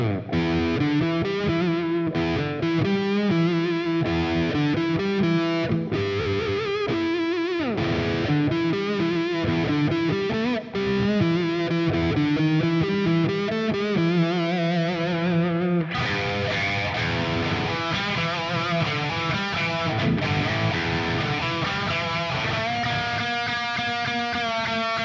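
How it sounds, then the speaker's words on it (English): Epiphone electric guitar played with a distorted, cocked-wah tone shaped by rolling the tone knob, producing a continuous nasal, midrange-heavy riffing line that stays loud throughout with no talking. "utilizing the tone knob on it to get that kind of that cocked-wah sound"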